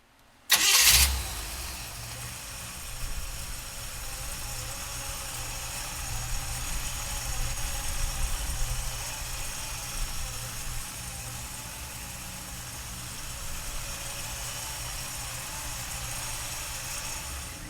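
A 1957 Chevrolet Bel Air engine cranks and catches with a loud burst, then settles into a steady, rumbling idle that carries on close by for the rest of the stretch.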